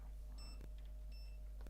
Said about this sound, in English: So continuity, beep beep, that makes beep.